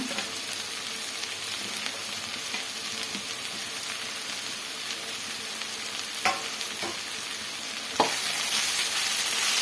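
Tamarind and onion for onion chutney frying in a pan, a steady dense sizzle with occasional stirring scrapes, close and without talk.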